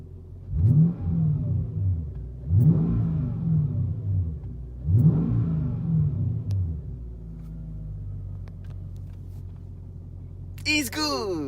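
Car engine with electric exhaust cutouts open, three sharp throttle blips in quick succession, each a loud deep bark dropping back to a rumbling idle, near and alone.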